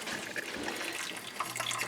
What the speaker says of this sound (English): So I have a strainer, and I just take this and slowly pour